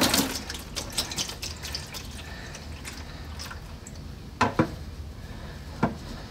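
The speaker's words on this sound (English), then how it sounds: "Now this is going to drain here for a couple minutes for sure." Automatic transmission fluid draining from a 2007 Acura MDX, a steady trickling stream into a pan with a few louder splashes and drips, close by.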